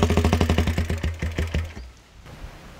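A motorcycle engine revs in rapid rhythmic pulses, loud and close, for a bit over a second and a half, then cuts back to a quiet idle.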